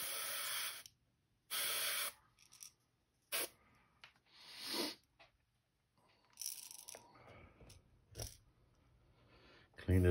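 Airbrush hissing out blue paint onto a Wiggle Wart crankbait during custom lure painting, in several short, sharp bursts separated by quiet gaps and faint handling noises.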